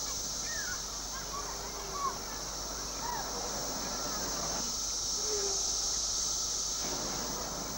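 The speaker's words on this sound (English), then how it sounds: "As we begin a new day, the cicadas gain strength by sucking sap." Cicadas drone in a steady, high, continuous chorus at dawn. Scattered bird calls sound in the distance beneath it.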